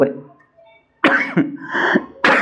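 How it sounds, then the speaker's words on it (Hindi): A person coughs a couple of times, harsh and close, from a scratchy throat, between short bits of speech and a brief throat-clearing sound. "माफ कीजिएगा थोड़ा खांसी, थोड़ा गला खसखसा रहा है।"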